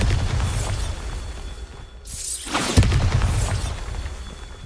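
A Bombarda spell explosion in Hogwarts Legacy, a loud blast that cuts off into a brief dip before a booming, crackling burst swells back in over a dense rumbling background.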